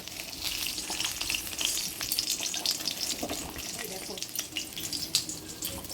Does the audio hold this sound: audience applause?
no